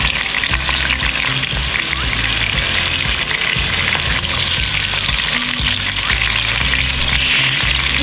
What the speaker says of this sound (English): we're gonna saute the onions